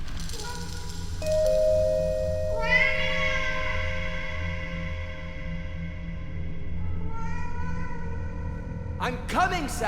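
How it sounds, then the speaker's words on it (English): A pet cat meows several times while begging for food, giving drawn-out, rising and falling cries close by, then a brief sharper sound at the end. "Your cat interrupts you, begging for food"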